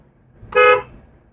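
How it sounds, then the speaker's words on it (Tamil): A single short car horn honk, loud and close, with faint low road rumble around it. "ஹார்ன் அடிங்க"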